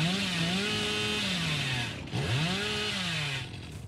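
A chainsaw from the video game Dead by Daylight revs in a loud, continuous drone with sweeping rises and falls in pitch, briefly dropping out near the middle before roaring back and easing off at the end.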